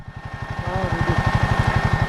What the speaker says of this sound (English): And that is the noise of the fan